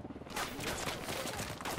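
Dense, rapid gunfire during a firefight in Ghost Recon Wildlands, sustained bursts at moderate distance with no talking over it.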